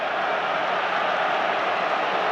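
Steady, dense roar of a large football crowd filling Wembley Stadium during the Carabao Cup Final, a continuous wash of noise with no pauses and no distinct voices standing out.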